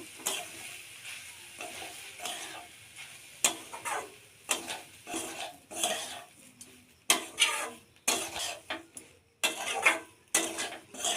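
Semolina and carrot frying together in a pan, with a soft sizzle broken by irregular scraping and knocking of a spatula against the pan as the mixture is stirred, close and fairly quiet.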